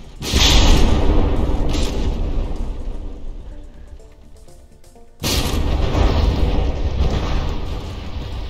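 Heavy shell explosions hit a battleship in the From the Depths naval combat video game: two loud, booming blasts with long rumbling decay, the second sharply starting partway through after a quieter lull.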